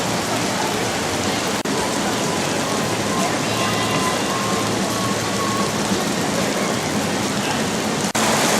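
Steady, dense rain pours throughout, a loud continuous hiss with no break, occasional faint thuds underneath.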